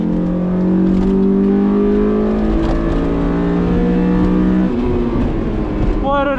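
A stock Honda S2000 revving hard on a race track, the engine note climbing loud and close through the rev range into VTEC, then dropping and rising again as the driver shifts.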